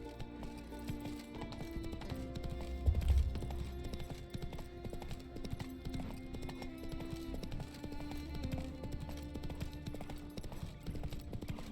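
Hooves of Roach, a horse in the video game The Witcher 3: Wild Hunt, pound in a fast, steady galloping rhythm for about twelve seconds, layered over a quiet game music bed.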